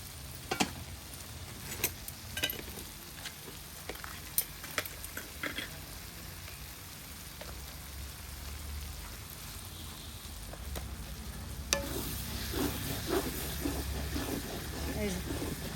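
Spice paste (masala) frying in oil in a pan, with a few green chilies added, gives a steady, fairly quiet sizzle with scattered crackles and pops. The sizzle grows denser and louder toward the end.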